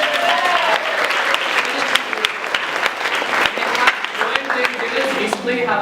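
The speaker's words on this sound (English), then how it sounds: "Let's give her a round of applause." A room full of people breaks into loud, dense applause for a group member, continuous clapping throughout with a few voices and cheers mixed in.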